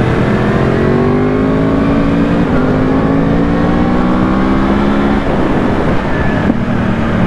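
Yamaha R1 motorcycle engine revs hard and accelerates, a loud close roar with rising tones that climb through the gears, dipping briefly near the end before pulling again, with no talking.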